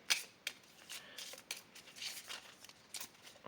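A deck of dungeon game cards is shuffled up close, with a series of quick, soft riffling flicks and slides, faint and alone.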